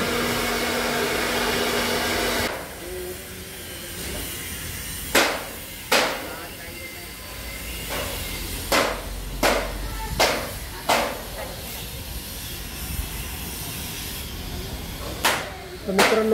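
A large decorative roof-strip making machine in a factory runs with a steady hiss at first, then gives a series of sharp, evenly spaced mechanical clacks over a low hum.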